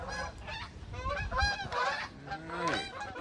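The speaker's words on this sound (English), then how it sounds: "the geese are moving." Geese honk in a noisy, overlapping chorus, loud and nasal, over a low rumbling background.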